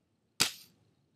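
A BB gun fires a single shot at a Lego piece, one sharp snapping crack that decays quickly into silence.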